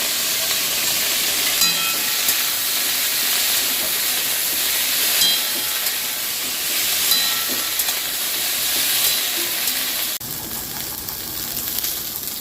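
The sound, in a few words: okra frying in hot oil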